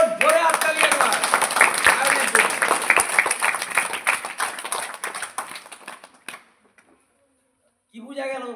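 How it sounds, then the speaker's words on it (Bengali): A classroom of students claps loudly in a dense burst of handclaps that lasts several seconds, fades, falls silent, and is followed by a voice speaking briefly. "ভেরি গুড, জোরে হাততালি একবার।"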